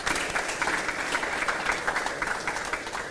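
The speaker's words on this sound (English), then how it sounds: "So can we get another round of applause for Hannah Bennington?" Steady applause from a crowd at a 4-H fashion revue, many hands clapping continuously at a constant level throughout.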